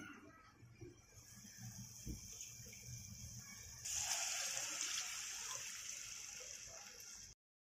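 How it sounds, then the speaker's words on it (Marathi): Water pours into a mixer jar used for grinding spice paste while Kolhapuri kat is being made, a steady trickle that swells into a fuller splashing stream midway, then cuts off. "मसाला वाटलेलं हे जे मिक्सरचं भांडं आहे, त्यात आता आपण पाणी घालूयात।"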